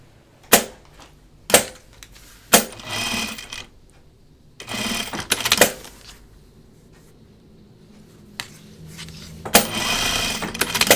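A sewing machine works on denim jeans in short bursts, each starting with a sharp, loud clack as the presser foot or needle engages, separated by quiet pauses and followed by brief runs of stitching.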